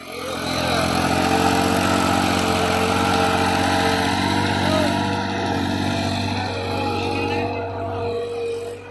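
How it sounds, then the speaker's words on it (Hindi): A 35 hp Massey Ferguson 7235 tractor engine pulling a water tanker runs steadily and loudly nearby, a deep continuous rumble with a slight drop in intensity toward the end. "पानी के टैंकर पे देखिए परफॉर्मेंस 35 एचपी ट्रैक्टर की।"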